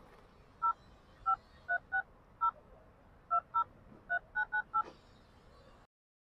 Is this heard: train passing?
no